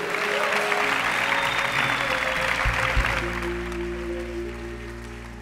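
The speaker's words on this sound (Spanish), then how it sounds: "Denle un aplauso a Jesús fuerte." Church congregation applauding in unison during a Spanish-language sermon in Panama, a dense, steady wash of clapping with a low organ or keyboard drone sustained underneath, tapering slightly toward the end.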